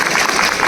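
Audience applause after a call to clap for themselves, a brief steady wash of hand claps filling the room without a break.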